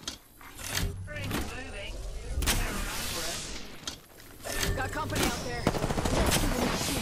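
Gunfire aimed at the player in a battle royale shooter game, bursts of shots cracking in a busy mix alongside a vehicle engine, with a voice talking over the action.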